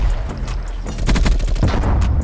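Gunfire in the video game Call of Duty Black Ops Cold War, a loud burst of rapid shots and impacts filling the short stretch, with no talk over it.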